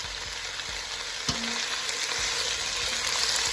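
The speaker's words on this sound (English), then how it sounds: "let's get started sauteing the onions, peppers, and mushrooms." Onions, peppers and mushrooms sizzle steadily in a hot pan while being sautéed, with a constant close frying hiss and a few soft stirring knocks.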